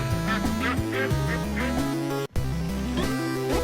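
Ducks in the Legend of the Brofist video game quack repeatedly in a bouncy rhythm over game music, with one brief dropout midway.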